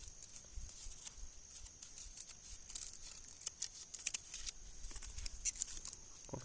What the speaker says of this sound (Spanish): En este paso ahí sí recomiendo ocupar una tijera para que no vayamos a arruinar esta parte